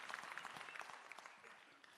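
Applause from a crowd at a provincial political party conference, a steady dense patter of clapping heard from some distance at low volume, with faint voices mixed in.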